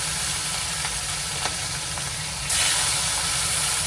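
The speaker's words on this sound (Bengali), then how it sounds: "এখন আমি গরম তেলে হালকা ভেজে নেব।" Hilsa fish frying lightly in hot oil in a home kitchen, a continuous bright sizzle and hiss with a few faint clicks, growing louder near the end, with no voices.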